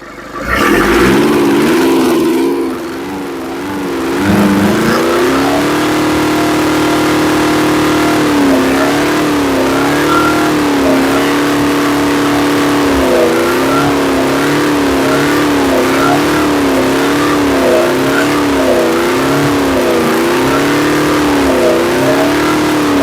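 A Nissan Urvan van's engine, one with a fault that makes it stall on its own, revs loudly and steadily up close, the pitch rising and falling in repeated pulls over a sustained idle drone, with no talk.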